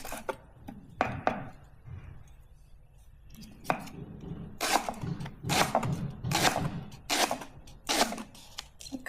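Thai miang salad ingredients are pounded in a mortar with irregular, dull thuds and clacks, some bursts quicker than others, close by with faint background noise.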